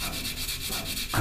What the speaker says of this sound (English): you can take your file, quite a coarse one